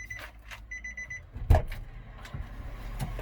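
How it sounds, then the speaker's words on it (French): Warning chimes inside a 2020 Nissan Qashqai 1.6 dCi 130 automatic, Tekna+ trim: a quick run of repeated electronic beeps, then a dull thump and faint cabin noise. "ça c'est le problème des véhicules modernes, ça sonne de tous les côtés"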